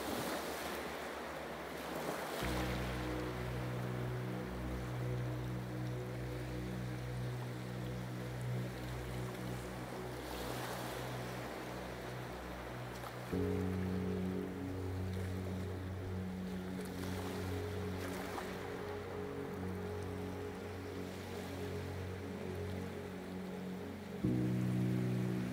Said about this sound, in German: Synchron mit dem sanften Rhythmus des Meeres.